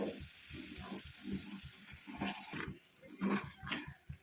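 An herbal powder mixture being stirred in a pan over a low flame, giving rhythmic scraping strokes about twice a second over a soft, continuous sizzle, close and fairly quiet.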